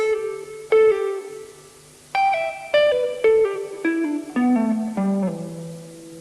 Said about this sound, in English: Almost the reverse technique is called a pull-off.